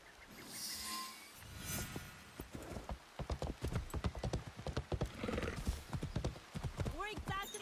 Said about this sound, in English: Put you and this horse through its paces a little.